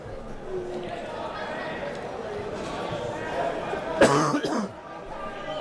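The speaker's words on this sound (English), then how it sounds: "Pardon this cough." A commentator at a high school wrestling match gives a short, sharp cough close to the mic, standing out against the murmuring gym crowd and speech.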